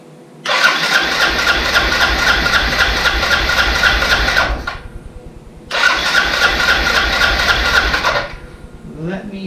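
A rebuilt 2006 Arctic Cat 400 ATV engine cranks and fires, running loud and steady for about four seconds, cutting out, then starting again for another run before stopping.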